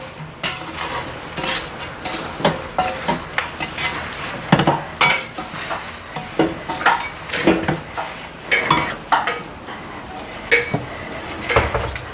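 Coconut being sautéed in oil in a pan for coconut rice, with repeated metallic clinks and scrapes of a spoon against the pan, steady and close, over a faint background sizzle.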